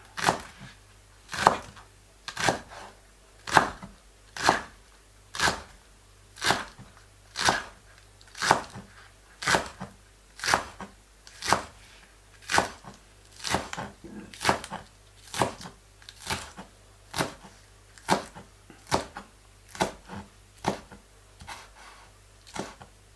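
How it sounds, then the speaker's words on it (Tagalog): A knife finely chops scallions on a cutting board, with steady, evenly spaced sharp chops repeating close by for a long stretch. "Hiwa tayo ng escallion pino."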